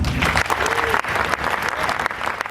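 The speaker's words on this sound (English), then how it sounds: "Please give them a round of applause." An outdoor crowd at an Army Ranger School graduation claps steadily for a couple of seconds, dense and continuous applause filling the space.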